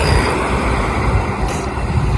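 A train running on rails on the route between Solapur and Pune, a loud, close, continuous rumble and rattle with no talking.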